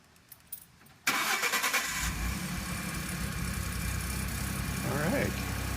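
A Ford F150 pickup, fresh from an exhaust flex pipe repair, cranks briefly and fires up, then settles into a steady, close idle with a slight rev, after a few quiet clicks beforehand.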